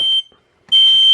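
Photoelectric smoke alarm shrieks in loud, piercing high-pitched bursts, cutting off briefly into silence before the shrill tone resumes at full volume.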